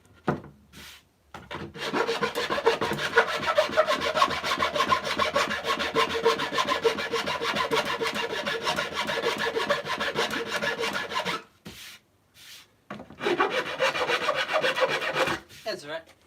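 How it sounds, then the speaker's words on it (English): A jigsaw cuts wood in a workshop, a loud, continuous rasping buzz that runs for about ten seconds after a brief start, pauses, then resumes for a few more seconds of cutting. "So the jigsaw will have to be the one that we use on this one."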